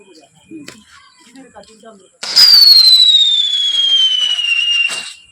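A single Diwali firework, likely a whistling rocket, lets out a loud, long descending whistle for about three seconds and ends in a sharp pop, after quieter chatter and a few small crackles.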